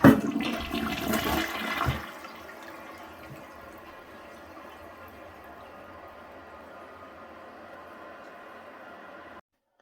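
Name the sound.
Mansfield Alto toilet press and release flush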